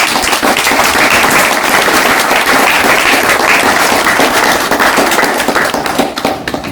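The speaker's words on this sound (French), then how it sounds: "vous pouvez encore applaudir très fort" Loud, dense applause from a large crowd, a continuous roar of many hands that holds steady throughout.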